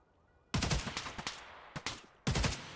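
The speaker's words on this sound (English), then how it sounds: "Stop shooting me in the back." Gunfire in the game Escape from Tarkov comes as three bursts of rapid shots, the first and last longest, with a brief double shot between them, loud and sharp against quiet background.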